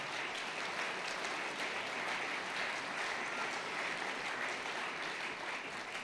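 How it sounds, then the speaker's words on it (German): Steady, full applause from a large crowd at a small party conference, a thick unbroken wash of clapping holding at an even level throughout with no voices over it. "Applaus"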